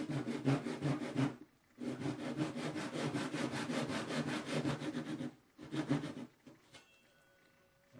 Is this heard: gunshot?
no